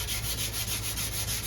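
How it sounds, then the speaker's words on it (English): Sandpaper rubs steadily against a wooden take-down bow limb, a continuous scratchy rasp with soft rhythmic strokes, close and fairly loud, with no voices. "So I'm just going to take that section out just with some sandpaper"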